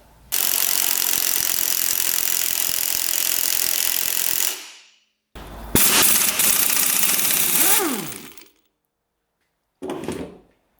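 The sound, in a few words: ratchet wrench removing a big bolt on a UTV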